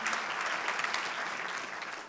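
A church congregation applauds God during a Good Friday sermon, with a steady, full round of clapping from many hands that stays fairly even before easing slightly at the end.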